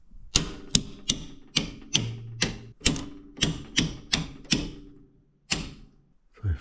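Circuit breaker switches in a home electrical panel are flipped off one after another, about a dozen sharp plastic clacks in an uneven rhythm, loud and close with short gaps between.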